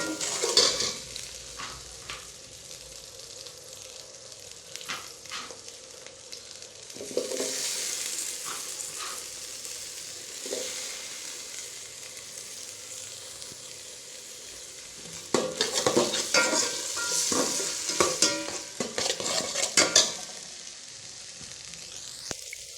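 Tomatoes with a little turmeric fry and get stirred in a pan for a Sunday chicken curry, producing a continuous close sizzle with clattering stir bursts that grow louder toward the end.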